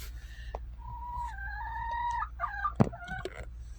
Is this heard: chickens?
yes